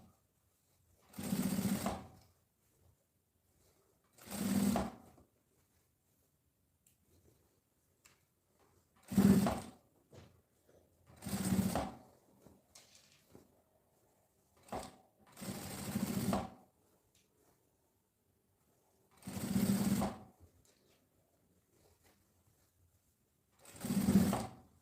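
A sewing machine stitches a fabric lining in short bursts of buzzing, about eight of them, each lasting roughly a second with pauses of quiet between, close by and without talk.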